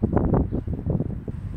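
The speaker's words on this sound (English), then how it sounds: "It's pretty windy today" Gusty wind buffeting a microphone, a low, uneven rumble that surges and fades with no voices present.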